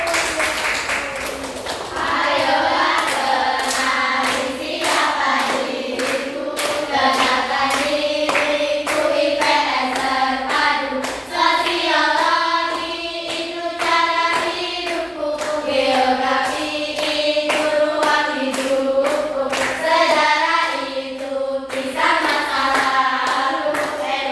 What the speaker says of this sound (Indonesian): Tepuk tangan buat Jana dan kita semuanya.